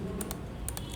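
Mouse clicks while selecting vertices in Blender for a 3D basket model, with two quick pairs of light clicks over a steady low background hum.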